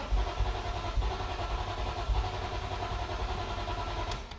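BMW E46 M3 engine after a fuel tank cleaning and fresh fuel: close, low rumbling engine running with uneven pulsing, settling toward an idle and cutting off at the end.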